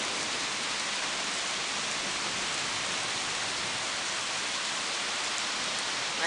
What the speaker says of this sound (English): And the rains are coming.